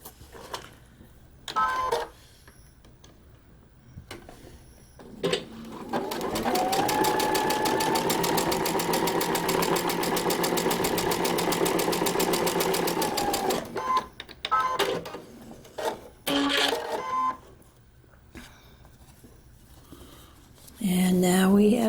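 Sewing machine stitching a seam on a paper-pieced quilt block: a steady, rapid mechanical whir and clatter running about eight seconds, bracketed by quiet handling noises and brief shorter bursts before and after.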